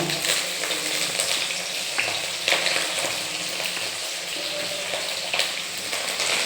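Curry leaves, ginger and green chillies frying in hot oil, making a steady close crackling sizzle with occasional sharper pops.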